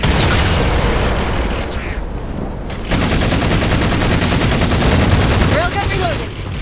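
Railgun gunfire and battle noise from the video game Halo 4, a dense loud barrage of shots and booms with a brief lull midway and electronic whines near the end.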